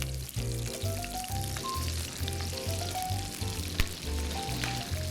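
Salmon fillet searing skin-side down in a hot frying pan, a steady close sizzle and crackle of oil running throughout, with light scraping or stirring taps in a regular rhythm.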